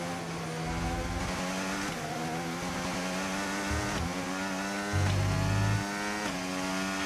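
Racing engine of a Formula 1 car in the F1 25 video game at the China circuit, a steady, loud drone that climbs and drops in pitch through gear changes and runs throughout without talk.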